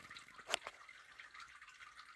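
Water trickling and dripping indoors like a small waterfall, with one sharper splash or drip standing out among steady faint trickles.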